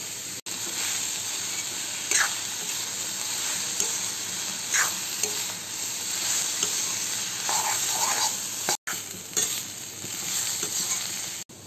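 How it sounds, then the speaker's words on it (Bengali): Cabbage and potatoes frying in ghee in a pan: an unbroken close sizzle with periodic stirring clatters and scrapes, interrupted by a couple of brief dropouts. "বাঁধাকপি আমার প্রায় ভাজি হয়ে গেছে।"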